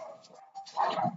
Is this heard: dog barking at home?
yes